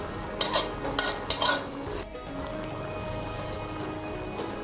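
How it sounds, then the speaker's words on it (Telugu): A spoon mixes chicken curry into cooked rice for a diet chicken biryani, giving a few clinking taps against the pot early on and then a low, steady stirring and squelching. "ఈ అన్నంలోనే కలుపుకోవాలి ఈ కర్రీ"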